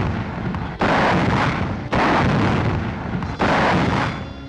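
Occasional gunfire along the Maginot Line during the phony war: loud, booming bursts of artillery-like fire, each followed by a rumbling decay and the next arriving about a second later, with no voices.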